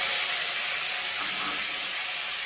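Chopped tomato with slit green chillies hits a hot wok during a green jackfruit curry, producing a loud, steady, unbroken sizzling hiss up close.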